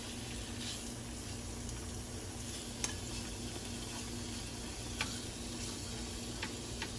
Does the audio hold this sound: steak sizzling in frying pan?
yes